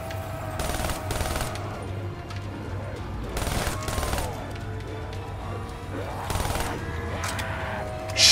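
Rapid automatic weapon fire in a Black Ops 3 Zombies Nightmares-mode round comes in several loud, dense bursts spaced a couple of seconds apart, each a rattling volley over a low steady game hum.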